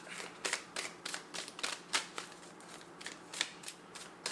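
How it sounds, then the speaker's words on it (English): Tarot cards are shuffled by hand in quiet, rapid bursts of riffling and flicking, a dozen or so crisp taps at an uneven rhythm. "I'm going to just shuffle 2 more times, and then I'll take something off of the top."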